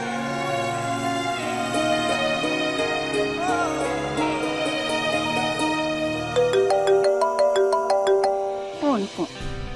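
A phone rings with a repeating electronic melody over background music, ending with a few bright chime tones.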